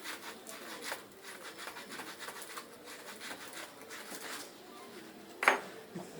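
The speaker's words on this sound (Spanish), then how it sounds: "Después tomamos la lija y lijamos en forma abrazadora, ¿cierto?, la cañería." Steady rasping rub of sandpaper wrapped around a metal pipe before silver soldering, continuous scratchy strokes with a sharper clink near the end, fairly faint.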